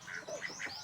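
Several ducks quack in short nasal bursts, three or four calls close together, fairly near and moderately loud against faint background noise.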